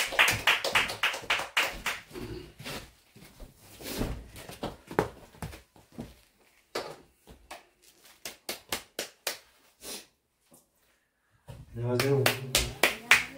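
Church congregation claps to welcome a deacon giving a testimony, sharp separate claps in bursts that thin out, pause briefly, then return at the end, with speech around them.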